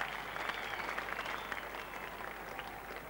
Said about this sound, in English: A generous round of applause from this full house here at the Oval.